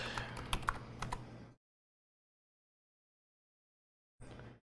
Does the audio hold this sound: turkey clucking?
no